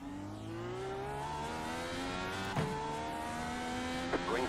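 IndyCar race cars in a racing video game at Kansas accelerating together at the green flag, a layered engine whine rising steadily in pitch, with brief sharp bursts near the end.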